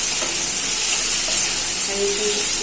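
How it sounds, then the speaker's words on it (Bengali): Potato, pointed gourd and chopped onion frying in leftover fish oil in a kadai, a continuous close sizzle and bubbling, no voices. "মাছের তেলের মধ্যে আলু পটল আর পেঁয়াজ কুচি দিয়েছি।"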